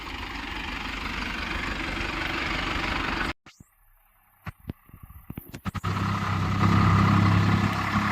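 A tractor engine idles with a loud, steady rumble that drops out abruptly, followed by scattered knocks and clunks before the engine drone resumes even louder.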